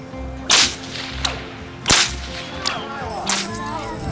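A Florida-made signal whip, a cattle-herding cracker whip used while riding, cracks five times in an irregular rhythm, with the first and third snaps loudest and close by.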